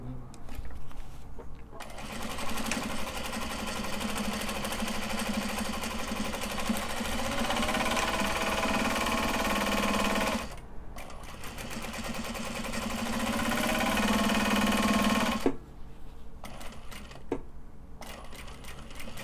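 A sewing machine runs in long steady stitching bursts on mini traveller slings, a continuous mechanical whir that stops abruptly near 10 seconds, resumes, then cuts out as the bobbin runs empty, followed by quieter handling sounds.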